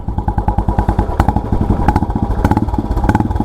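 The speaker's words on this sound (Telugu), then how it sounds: "సో కొత్తగా సైలెన్సర్ వేయించాడు, ఇండోర్ సైలెన్సర్. దీని సౌండ్ బీటింగ్ అనేది నెక్స్ట్ లెవెల్ వస్తుందంట." Royal Enfield Classic 350 fitted with an Indori three-pipe silencer idling nearby with a loud, regular thumping exhaust beat that quickens slightly as the throttle is blipped.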